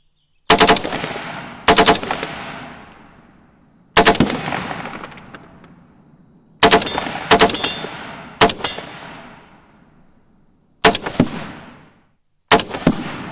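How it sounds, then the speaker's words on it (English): M27 IAR rifle firing loud automatic bursts outdoors at steel targets downrange, about seven sharp volleys spread out with long ringing decays between them and no talking. "shot it out of the back of my 4Runner, and that was a lot of fun. I put some Firebird targets downrange and just let her out"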